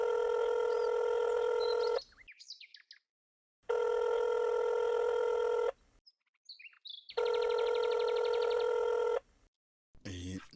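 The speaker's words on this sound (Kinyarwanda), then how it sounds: "ndumva telefone iciyemo." A telephone bell in a radio drama rings in three long, loud bursts, with voices talking in the pauses between rings.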